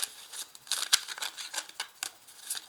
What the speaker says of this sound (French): je vais quand même remuer le paquet